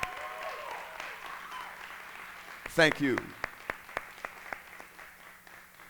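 A church congregation applauds fathers during a sermon: a bed of clapping carries through, a speaker briefly says thanks, and a few sharper, separate claps stand out near the end.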